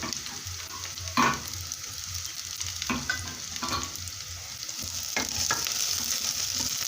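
Ginger stirred into browned onions frying for an African chicken stew: a steady sizzle of oil with a sharp scrape of the spoon near the start and a few more stirring knocks, close and continuous, no talking.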